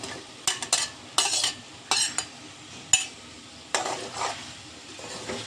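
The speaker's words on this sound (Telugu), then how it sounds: "ఇలా కొంచెం ఫ్రై అయిన తర్వాత మనం ఇప్పుడు దీంట్లోకి ఉల్లిపాయలు వేసుకోవాలండి" Onions frying and being stirred in a pan for Andhra-style chicken curry, with a steady sizzle under repeated close scraping stirs and clinks of a spoon against the pan, and no talk.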